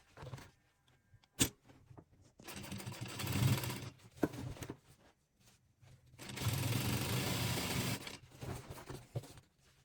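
A sewing machine top-stitches nylon webbing onto a fabric shopper bag in two long bursts of running, separated by quieter pauses and a few sharp clicks, close and fairly soft.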